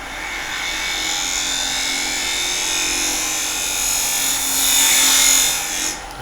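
A wood lathe spins at about 2000 RPM while a box is turned, giving a steady whirring hum with a faint tonal whine, close and fairly loud, rising a little near the end before cutting off, with no talk.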